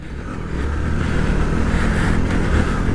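Suzuki V-Strom 800DE adventure motorcycle on a rocky off-road trail, its engine roaring steadily as the throttle opens, loud and close, with a rise in intensity after the first half second and wind rushing throughout.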